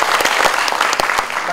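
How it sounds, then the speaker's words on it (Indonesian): Audience applause at a music awards ceremony, dense and steady clapping from a crowd filling the short moment, loud and close without pause. "tepuk tangan untuk kita semua"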